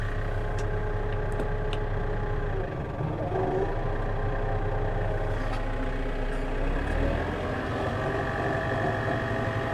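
A Maschio Giraffa 210 XL topper runs behind a tractor, giving a steady low mechanical drone with engine hum and a shift in pitch partway through.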